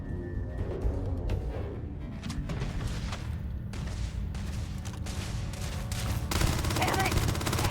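Gunfire in the sci-fi game Starfield, with scattered shots and thuds spread through a busy firefight, moderately loud, under voices and game sounds.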